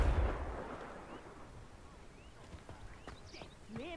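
A Confringo blasting spell in the video game Hogwarts Legacy goes off as a loud opening burst that fades into a rumbling tail, followed by scattered lighter game effects and faint voices.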